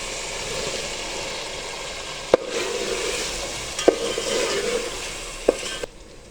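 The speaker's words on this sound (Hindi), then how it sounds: "इसमें चने डाल के अच्छा सा भूनेंगे।" Chickpeas sauté in a tomato masala for chana pulao, giving a steady close sizzle throughout, broken by three sharp stirring clicks against the pan spaced roughly a second and a half apart.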